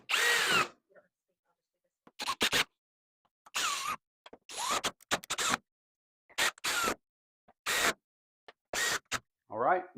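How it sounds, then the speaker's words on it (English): A handheld drill on a low setting runs in short whirring bursts separated by pauses, close by, as screws are driven in during a dryer heating element replacement; a voice is briefly heard between bursts. "So I've put my little handy drill to a low setting."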